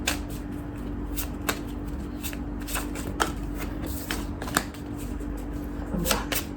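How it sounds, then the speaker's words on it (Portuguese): Tarot cards are shuffled by hand close up, a run of crisp riffling and snapping bursts at irregular intervals over a quiet room background. "Embaralhar mais um pouquinho."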